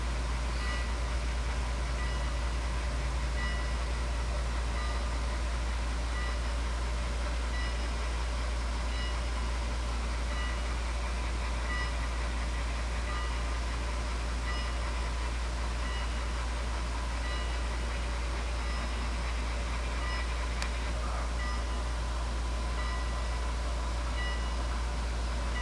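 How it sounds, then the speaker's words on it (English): A cab forward steam locomotive and train work slowly through crossover switches into the Cheyenne rail yard, a steady low rumble and hiss heard from a distance with no distinct clanks standing out. "Our train, with its unique cab forward, picks its way through the crossover switches to find its designated route into the Cheyenne yard."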